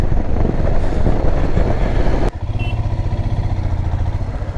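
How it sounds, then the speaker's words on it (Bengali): Motorcycle ridden solo on a cold mountain road from Manali toward Jispa, with steady engine drone and wind rush up close, a brief break midway, then a pulsing low engine throb. "তারপরে বাইক চালাচ্ছি"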